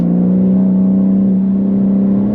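A manual BMW G82 M4 on the Nürburgring braking into Steilstrecke and turning in, with a steady loud engine drone and road rumble in the cabin.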